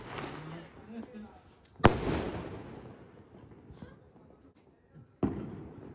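Diwali firecrackers bursting outdoors: one sharp loud bang followed by crackling decay, then a second pop near the end, with scattered people's voices and faint distant bursts between.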